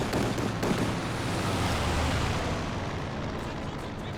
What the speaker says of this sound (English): Airstrike has been summoned.